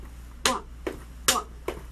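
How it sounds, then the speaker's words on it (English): Four sharp, close slaps of a hand clapping against the inner side of a lifted leg during an exercise, evenly spaced at a steady rhythm over a faint low hum. "Use your hand to clap inside of this area."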